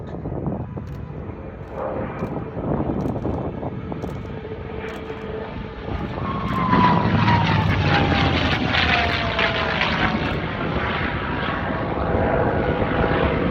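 A P-51 Mustang World War II propeller fighter plane drones steadily overhead, its engine roar swelling louder and shifting in pitch partway through as it performs a barrel roll.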